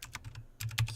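Quick keystrokes on a computer keyboard, a short burst of soft clicks with a brief pause before a few louder taps, close and quiet with no talking.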